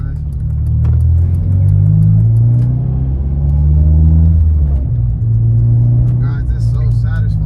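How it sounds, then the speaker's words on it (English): An 8th Gen car accelerates hard up through gears one to five, its engine rumbling loud and close, pitch climbing then dropping at each shift, with a voice talking over the run. "I feel like the car's taking the gears way smoother"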